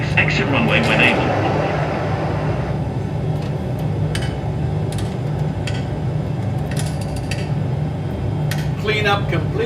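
Cabin hum of a Ryanair airliner taxiing to the gate after landing, a steady loud engine and airflow drone with occasional mechanical clicks and rattles.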